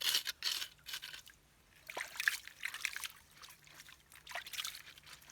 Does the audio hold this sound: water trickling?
yes